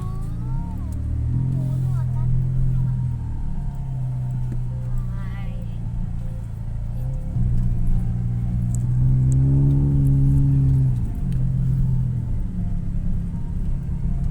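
Loud trucks passing through a village lane, a deep engine rumble that swells and fades as each one goes by, with people talking over it.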